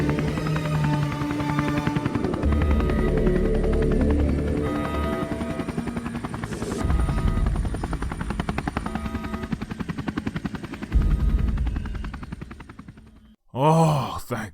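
An aircraft engine in the sci-fi video game Neofeud, a loud continuous rotor-like drone and roar that swells and dips over about fourteen seconds, ending in a brief whooshing sweep.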